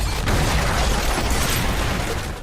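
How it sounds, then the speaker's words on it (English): Grenades thrown into a room go off as a dense, loud roar of blast and debris that holds for a couple of seconds and then fades slightly. "The explosions hit them hard."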